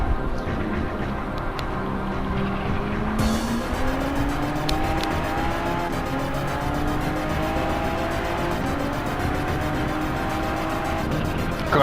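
Race cars, a Viper against a Diablo in a video game, rev hard as tires squeal and lose traction, with steady engine whine rising and falling under intermittent skidding screeches.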